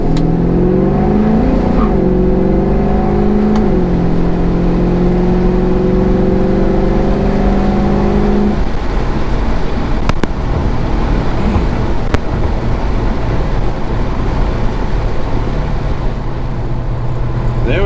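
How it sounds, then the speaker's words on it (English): An LS-swapped 1973 Chevrolet Nova at wide-open throttle, engine note climbing in pitch for several seconds, dropping at a shift, then pulling again as a loud, continuous roar that gives way to a rougher, broadband rumble near the end. "I'm just gonna let the car shift on its own."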